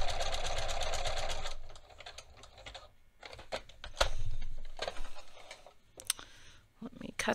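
A sewing machine stitches small buttonholes on a garment, a dense steady whir for the first second and a half, then quieter intermittent stitching bursts and clicks with handling noise.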